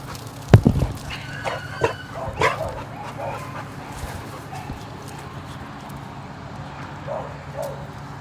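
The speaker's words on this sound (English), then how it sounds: "She does enough barking for the both of them." A dog at an animal shelter gives a couple of sharp barks and yips up close early on, then quieter whimpers and rustling follow against a low background hum.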